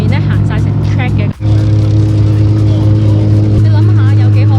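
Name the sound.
supercars entering the Monza track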